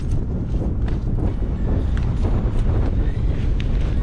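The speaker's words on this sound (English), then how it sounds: "Oh, it's windy." Steady, heavy wind roaring and buffeting on a boat at sea, a constant low rumble with faint knocks and splashes beneath, no voices.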